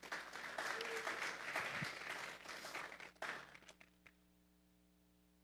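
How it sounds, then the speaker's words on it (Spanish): A church congregation applauds loudly in a dense, sustained wash of clapping that tapers off after about three seconds, ending in near silence with a faint electronic hum. "Vamos a darle un fuerte aplauso pues al Señor."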